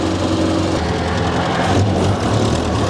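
The engine of a 100-year-old car driven fast roars loud and close, a steady rough drone with slight rhythmic pulsing and no pauses.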